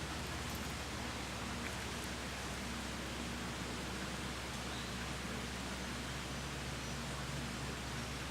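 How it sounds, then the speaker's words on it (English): Rain falling outdoors at a farm during a yoga session, a soft, even hiss of steady rainfall, fairly faint and unbroken, with a low constant hum beneath and no voices. "Pause and enjoy the rain."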